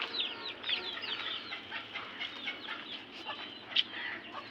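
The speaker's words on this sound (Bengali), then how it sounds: "আপনাদের সামনে আরেকটা দেশি মুরগি আছে" Desi hens clucking close by, a busy stream of overlapping short clucks and squawks with one louder cackle near the end.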